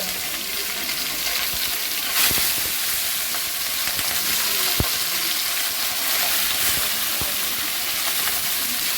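Small mixed river fish, chanda, mourala, bele and a few prawns, frying in oil in a pan: a loud, continuous sizzle with occasional sharp spits and pops.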